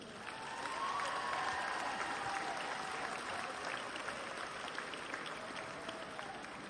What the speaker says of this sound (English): You deserve a hearty round of applause for yourself.